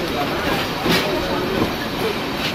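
A train pulls out of Bonarpara station, heard from on board as a steady rumbling roll of wheels and carriage noise with faint rhythmic clicks.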